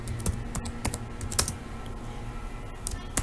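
Computer keyboard keystrokes as a Linux terminal command (sudo chmod) is typed, irregular crisp clicks coming close together in short bursts over a steady low background hum.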